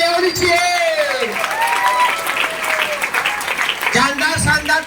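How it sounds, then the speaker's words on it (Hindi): Audience applause at a stage plan presentation event in Virar, a steady wash of clapping from a seated crowd mixed with someone speaking loudly over a microphone throughout. "जोरदार तालियां होनी चाहिए सर के लिए"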